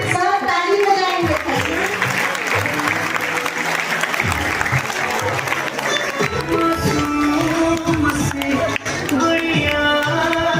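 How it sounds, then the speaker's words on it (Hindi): An audience at a ceremony celebrating a daughter claps along in sustained applause while voices and music carry over it, loud and continuous throughout. "सब ताली बजाएंगे।"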